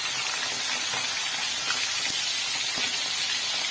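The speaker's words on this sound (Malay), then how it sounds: "kita goreng ni sampai garing ya kawan-kawan" Steady loud sizzling hiss of salted fish frying in hot oil in a wok, with a couple of faint clinks.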